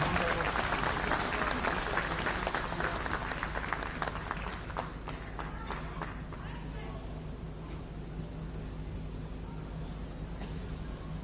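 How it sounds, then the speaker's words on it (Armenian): Dense audience applause fills a hall after a call to welcome the head of the Swiss diocese of the Armenian Church, loud at first and then thinning and fading over several seconds. "ես խնդրում եմ իրեն էլ բուռն ծափերով"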